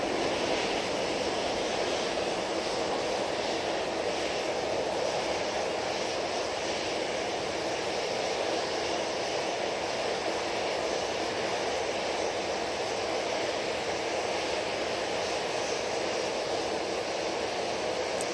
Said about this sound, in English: And that Ryanair 737 now off to Marrakesh.